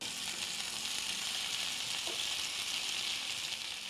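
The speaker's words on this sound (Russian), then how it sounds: "Затем отправляем оленину на сковороду." Steady, loud sizzling of venison frying in a pan, a continuous hiss with no talking.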